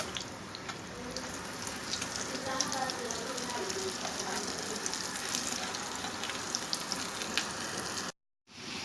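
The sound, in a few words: beef shami kebabs frying in hot oil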